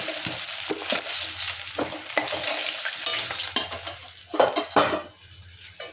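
Pieces of rohu fish fry in hot oil with a constant crackling sizzle, punctuated by repeated metal clinks and scrapes of a utensil against the pan, close up and without speech.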